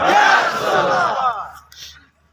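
A crowd at a religious sermon roars a loud, unified takbir chant in response, a dense swell of many voices that fades out over about two seconds.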